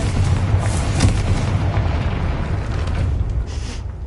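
Fiery blast spell cast in Hogwarts Legacy, heard as a dense, sustained rumbling boom with low roar and crackle lasting several seconds, loud and steady with no talk.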